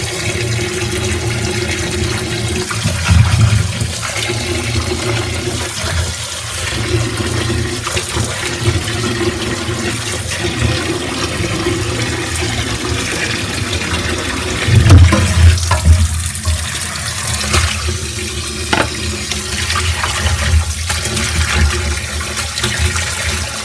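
Water runs steadily from a tap into a sink for a long stretch while mathi (sardine) fish are washed, loud and close, with occasional splashes and clatter.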